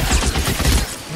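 Gunfire in the video game L.A. Noire: a short, dense burst of loud rapid shots that thins out near the end.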